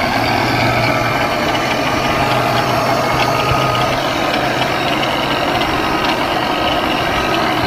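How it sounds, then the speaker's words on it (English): A SilverLine hardwood floor sander runs at full power, a loud, constant mechanical roar with a steady low hum and no pauses, with no voices over it. "Silver line floor sander."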